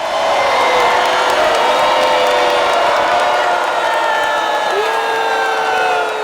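A huge crowd on the floor of the 2016 Democratic National Convention roars continuously, with cheers, whoops and applause swelling over scattered boos, loud and sustained throughout.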